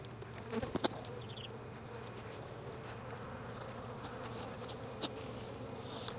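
Honeybees buzz in an observation hive, a steady faint drone with a few brief louder passes close by and no talk over it.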